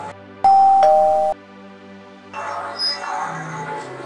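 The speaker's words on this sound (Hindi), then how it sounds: "खाली घंटी बजो ने" A doorbell rings once with a clear electronic chime, loud and close. Quieter room noise and faint activity follow.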